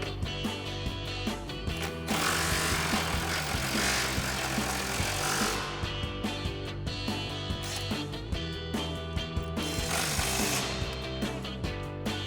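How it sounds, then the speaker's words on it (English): Power tool tightening 13mm bolts on a 2019-2025 Chevrolet Silverado 1500 rear bumper, continuous loud whirring and buzzing in bursts with tapping clicks, heard close and without speech. "Then tighten those back down with our 13mm socket."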